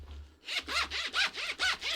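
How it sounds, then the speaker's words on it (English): A bag's YKK zipper pulled back and forth in quick repeated strokes, about six rasping zips in two seconds, close and fairly loud with no talking. "Those are those YKK zippers"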